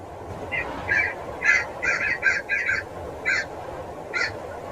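Several harsh caws from crows in an animated Hindi story, coming in short separate bursts of two or three calls that sound fairly close and stand alone over a steady background hiss, with no talk.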